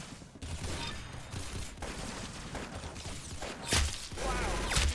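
Rapid gunfire from the Roblox shooter Arsenal crackles in dense bursts, with sharper louder shots near the end over a busy game mix.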